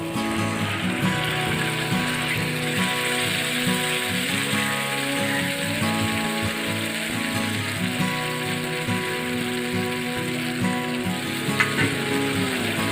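Mustard paste frying in a pan for pabda fish curry as it is stirred, a dense continuous sizzle with scraping and clinking of the utensil throughout, fairly loud and steady.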